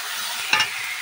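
Tomato and ground coriander, cumin, ginger and dried chilli fry in a pan with a steady close sizzle and a short louder stir burst midway.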